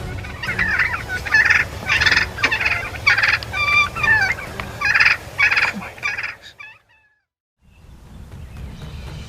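Wild turkeys gobble repeatedly in a rapid series of loud, close rattling calls, followed by a brief silence and then faint background.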